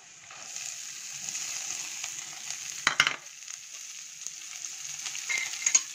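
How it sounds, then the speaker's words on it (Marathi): Chopped onion sautéing in hot oil for a tomato chutney, a continuous close sizzle with a sharp spoon clatter and stirring scrapes partway through. "कांदा घातला, कांदा परतून घेऊया."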